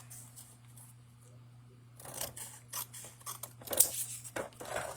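Scissors snip through a Christmas card along a scored groove, a few close, crisp cuts in short bursts after a quiet stretch with a low steady hum beneath.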